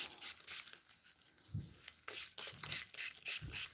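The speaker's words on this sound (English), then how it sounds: "So I just pretty much spray." Several short hissing spritzes from a spray bottle of hair detangler onto natural 4c hair, close up, in a quick rhythmic series after some soft rubbing.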